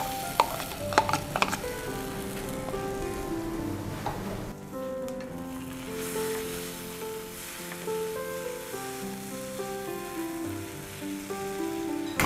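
Sesame, coconut and peanut paste stirred into dry fruits frying in a pan for a panchamrit, with a few spoon clinks at first, then a soft continuous sizzle and scraping under faint background tones.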